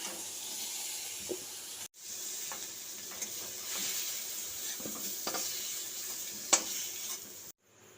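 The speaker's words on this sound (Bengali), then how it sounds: "দিয়ে আলু আর কুমড়োটাকে ভালো করে ভেজে নিচ্ছি" Potatoes and pumpkin fry in oil in a pan, giving a steady soft sizzle. Light stirring clinks sound at intervals, and a brief break comes near the middle and again at the end.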